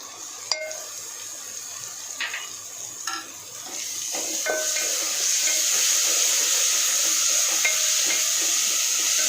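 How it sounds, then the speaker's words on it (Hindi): Ginger garlic paste and onion paste frying in a pot for chicken pulao, a continuous close sizzle that grows slightly louder, broken by occasional spoon scrapes and taps. "जिंजर गार्लिक पेस्ट के साथ ही साथ हमारा अनियन का पेस्ट भी अच्छी तरह से भून जाएगा"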